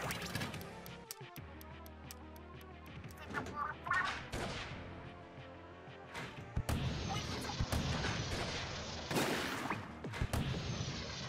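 Heavy cannon blasts and crashing impacts in Splatoon 2's Octo Expansion, loud irregular booms and smashes over busy game music and effects, with a voice talking at times.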